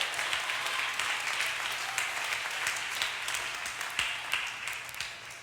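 A church congregation applauding during an evening service, steady dense clapping from a crowd with a few sharper individual claps, continuing throughout at moderate loudness.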